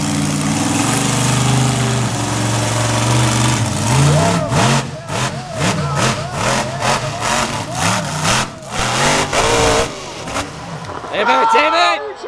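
Engine of a Chevrolet-powered freestyle vehicle at a storm-damage freestyle event in Plymouth Meeting, PA, revving in repeated bursts with pulsing throttle blips, loud and close over steady crowd and announcer noise.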